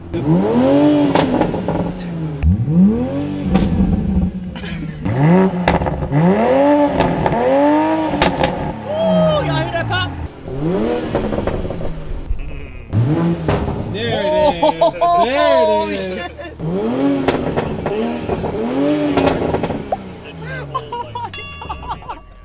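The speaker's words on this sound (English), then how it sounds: "Every single person that has heard the exhaust has been stunned by it." A 2020 Toyota Supra's exhaust note rises and falls through several loud revs, each swell sweeping up and dropping back. People talk over and between the revs.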